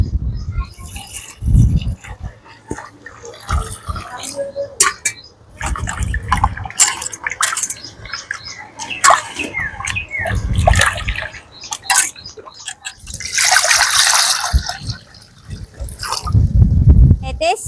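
Raw fish being washed by hand in water mixed with turmeric, with repeated splashing and sloshing bursts and a tap-like trickle, up close under someone speaking Telugu.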